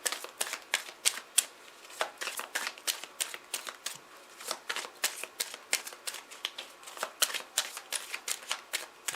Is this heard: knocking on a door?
no